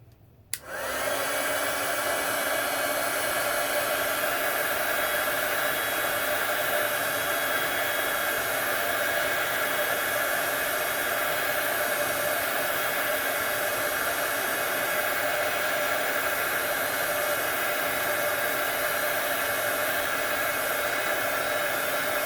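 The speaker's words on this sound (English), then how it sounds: "so let's heat that up" A heat tool melts embossing powder on a stamped sentiment, switching on with a click and then blowing a loud, steady fan-and-heater whoosh close by for the whole stretch.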